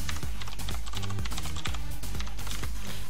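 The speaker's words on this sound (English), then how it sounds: "let me type this in here" Typing on a computer keyboard at close range, rapid irregular clicks and clacks of keys pressed in quick bursts, continuous with no voice over it.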